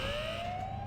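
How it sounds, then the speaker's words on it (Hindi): Steady rising electronic siren tone from an alarm in the Ice Scream 8 video game, loud and continuous over a low droning background. "आजा आजा, अलार्म बज चुका है।"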